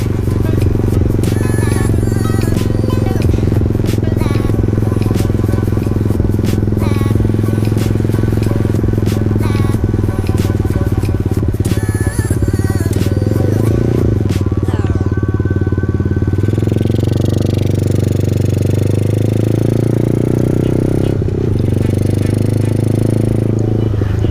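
A Kawasaki KSR motorcycle rides hands-free in S1000 mode at about 40, its engine droning loud and steady throughout with rattling and wind noise, easing slightly toward the end.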